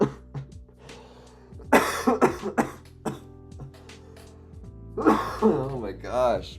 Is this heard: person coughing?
yes